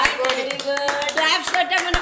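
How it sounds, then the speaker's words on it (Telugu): A group claps in quick, uneven rhythm close by during a guided exercise session, while voices speak and call out over the claps. "క్లాప్స్ కొట్టాము."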